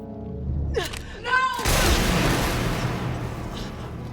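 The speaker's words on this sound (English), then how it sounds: "Nebula decides to shoot her old self in Endgame" A gunshot from the film Avengers: Endgame follows a few short voiced sounds. It is one loud, sharp blast that fills the soundscape and then trails off into a long, rumbling reverberant decay.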